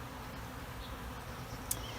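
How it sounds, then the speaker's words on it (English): Honey bees buzz around their hive, a soft continuous drone of many insects close by with a few brief louder passes. "Here's a good view of the bees."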